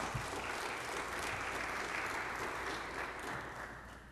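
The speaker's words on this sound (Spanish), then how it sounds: "Dele un aplauso al Señor" A church congregation applauds in a sustained, even wash of many hands clapping at once, heard from a distance with no voices standing out.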